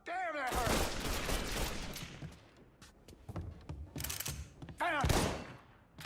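Bursts of gunfire in the video game Mafia, rapid volleys and single loud shots cracking close, with thuds between bursts and voices talking over the shooting.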